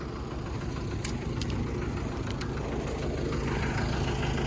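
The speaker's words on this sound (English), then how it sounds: "I don't want to turn the tractor off because it might not start again." A tractor engine idles steadily while brush cutting goes on, a continuous low rumbling drone that stays close and even throughout with no talk.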